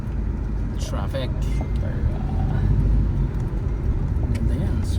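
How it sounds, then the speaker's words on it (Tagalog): Road traffic near a restaurant in Antipolo hums steadily as a low, continuous rumble of passing vehicles, while people talk over it throughout. "Traffic."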